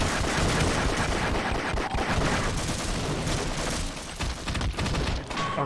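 Rapid, dense shotgun fire in the video game Half-Life rattles on continuously at loud volume, blasts overlapping into an almost unbroken barrage with only brief dips.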